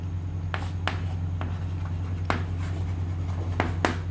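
Marker or chalk strokes on a board during a chemistry lesson, a series of short scratchy taps at an irregular rhythm over a low steady hum, with no talk.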